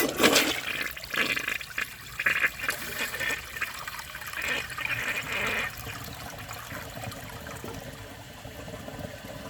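A 1998 Eljer Savoy toilet, deliberately loaded with paper towels, gives a short flush: a loud rushing gush of water that tapers over a few seconds into a steady trickle and refill hiss, heard alone.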